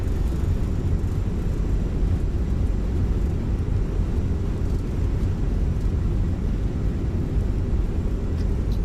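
Airbus A320 thrust reversers roaring on landing in a flight simulator game, a steady loud low rumble holding without a break throughout.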